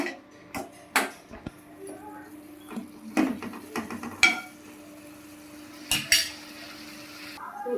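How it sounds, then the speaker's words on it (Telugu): Tomato and dried red chilli chutney stirred in a pan, with sharp clinks and scrapes of a metal spoon against cookware and a clatter as a lid goes on, the knocks irregular and close over a faint low sizzle. "చక్కగా ఒకసారి కలిపేసుకొని మూత పెట్టుకొని"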